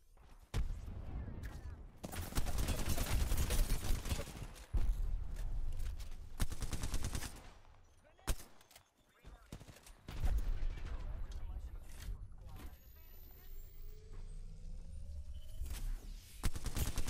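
Gunfire from an Apex Legends match, likely a Kraber sniper rifle, comes as several loud sharp bursts with rolling echoes, broken by quieter gaps and whooshing movement, while a player talks throughout.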